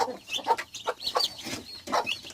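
A broody hen clucks softly among her chicks, a series of short, close, fairly quiet clucks and peeps with no talking.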